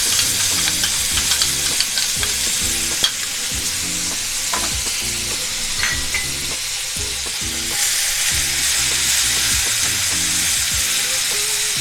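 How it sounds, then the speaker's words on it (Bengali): Onion paste sizzles and crackles steadily in a hot pan for an egg korma, with scraping stir sounds and occasional sharper pops over a continuous frying hiss. "পেঁয়াজটাকে ভালোভাবে ভেজে নিতে হবে।"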